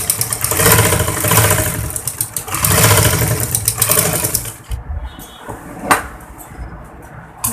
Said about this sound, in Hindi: इस पर 1/4 इंच की सिलाई लगानी है हमने, बिल्कुल हल्की से